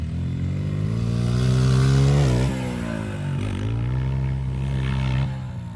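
Cheap dirt bike fitted with a big bore kit revs hard and accelerates toward a step-up jump, loud engine drone climbing in pitch, dipping briefly at shifts and then pulling again.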